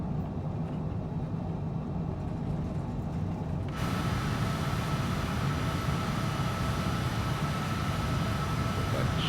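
In Microsoft Flight Simulator 2020, an airliner's engines roar steadily on the takeoff run, then swell louder and brighter partway through as thrust comes up, a constant dense rumble with no pauses.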